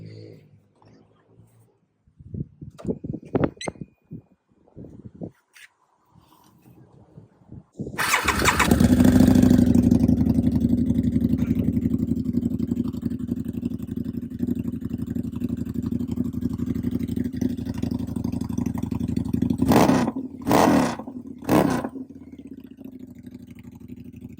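A custom Harley-Davidson V-Rod motorcycle with air suspension starts up after a few clicks and settles into a loud, steady idle close by, with a few sharp throttle blips near the end.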